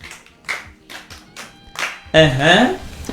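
Children in an audience clap in quick, uneven bursts for roughly two seconds at a Yoruba storytelling session, then a voice starts singing over the room.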